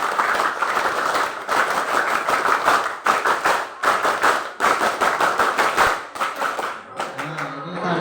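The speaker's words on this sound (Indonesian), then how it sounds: "Tepuk pramuka." A school class claps out the scout rhythm pattern (tepuk pramuka) together, giving loud rapid bursts of group clapping in a steady repeated sequence that breaks off near the end, with some voices heard.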